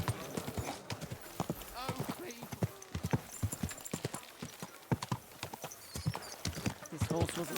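Horse hooves clip-clop in a steady walking rhythm in Kingdom Come: Deliverance 2, close and clear, with occasional voices talking over the hoofbeats.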